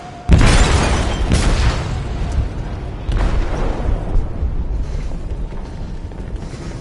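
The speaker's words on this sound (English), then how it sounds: "They detonated an explosive in the hold" Inside the video game Detroit Become Human, an explosive detonates in a ship's hold. Two heavy booms land a few seconds apart, each followed by a long, roaring rumble that slowly fades, with no voices.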